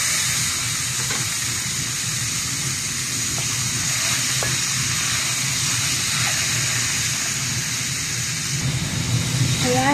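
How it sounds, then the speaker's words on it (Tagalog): Beef sizzles steadily in a hot pan, a dense continuous frying hiss with occasional stirring clinks, close and fairly loud throughout. "Ipaprine na natin sila ngayon."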